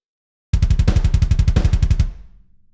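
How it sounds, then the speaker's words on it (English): Programmed drum pattern with snare and kick struck together, a fast, tight, evenly spaced run of punchy hits lasting about a second and a half, loud and dry, ending in a short decay. "if you move like this snare and this kick"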